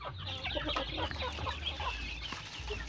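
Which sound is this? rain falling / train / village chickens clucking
village chickens clucking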